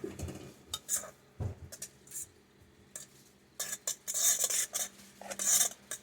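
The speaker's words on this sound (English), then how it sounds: "I let my rice sit there for 10 minutes covered. And all you gotta do is stir it." Cooked rice being stirred in a pot after resting covered, with scattered spoon scrapes and clinks against the pot, sparse at first and then denser bursts of scraping toward the end, close and without talk.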